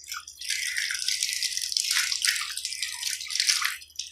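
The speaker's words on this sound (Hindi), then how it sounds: "उसके बाद आपने अपने नाक में पानी डालना है" Water splashes and trickles continuously in close, faint hiss-like bursts as it is poured into the nose during wudu, with no talking.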